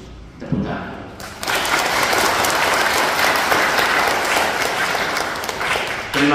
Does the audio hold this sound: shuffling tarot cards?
no